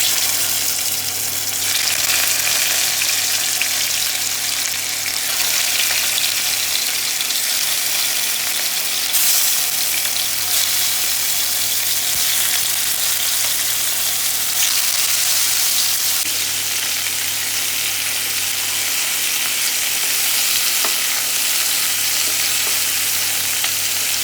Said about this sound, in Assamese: চিকেনখিনি অলপ ফ্ৰাই কৰি লওঁ।